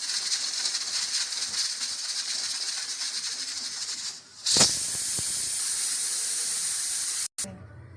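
A steady, loud steam hiss runs throughout, briefly dipping and then surging back stronger before cutting off abruptly near the end.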